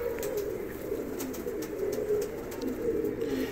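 Low, rolling coos from a female championship-prepared pigeon fill a short stretch while she is handled and shown, accompanied by light ticking handling sounds.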